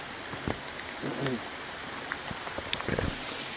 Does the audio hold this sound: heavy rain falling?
yes